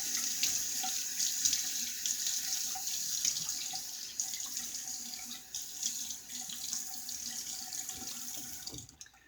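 Tap water runs steadily into a sink for several seconds, a continuous close splashing hiss with small drips, as the face is wet before a shave; no one speaks.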